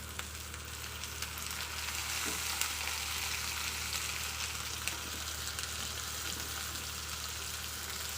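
Ginger garlic paste sautéing in hot oil for Chettinad chicken kulambu, a steady close sizzle and crackle running the whole time with faint stirring scrapes and no talk.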